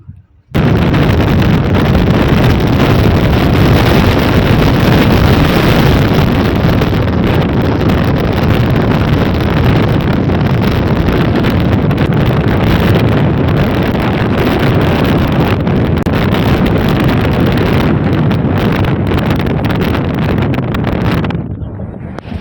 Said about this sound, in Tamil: அது எவ்வளோ காற்று வந்து ஃபோர்ஸாக அடிக்குது